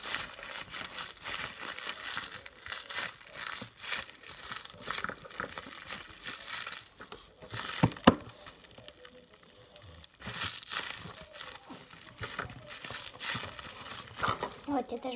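Slime is squeezed and crunched by hand, giving a steady stream of close crackling and crinkling pops with brief lulls, continuing for several seconds with no talk over it.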